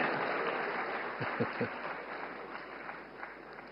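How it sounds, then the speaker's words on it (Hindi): Audience applause after a speech: a spread of clapping that swells briefly, shows a few sharper claps and then thins out, heard from a distance beneath the room's ambience. "हाँ, अब ताली बजी।"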